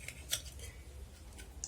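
Metal scissors working a boiled snail out of its shell, giving a few faint, quiet clicks and scrapes at close range with no voices.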